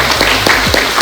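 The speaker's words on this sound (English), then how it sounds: "round of applause for him." An audience at a college athletics spring media day gives a short burst of dense, loud applause that fills the whole second, with no talk over it.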